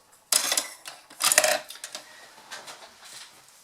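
A die-cutting machine cuts through vanilla cardstock with a few sharp mechanical clicks and clacks, a loud burst near the start and another just after, then lighter ticks trailing off.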